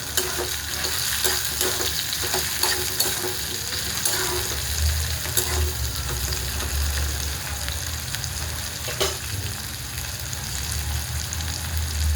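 Tomatoes frying in hot oil with onion for a bottle gourd curry, giving a steady dense sizzle throughout with occasional sharper clicks of a spoon stirring the pan, no voices.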